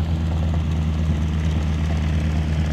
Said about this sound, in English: Band plays and the engines roar at the Guthrie Edmond Airport's Community Day.